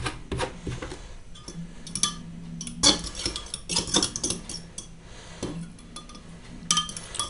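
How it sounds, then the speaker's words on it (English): A whisk beating a mixture in a bowl during home cooking, giving quick, uneven clinks and scrapes against the bowl's side. The strokes come in short bursts that sound close and moderately loud. "So what you want to do is you just want to whisk it"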